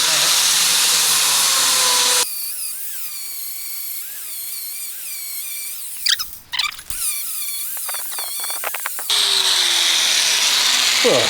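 A power grinder works a cut in a truck tire tread for a glue-on tread repair, whining steadily at close range, dropping in pitch under load, with a brief clatter midway before the tool revs back up.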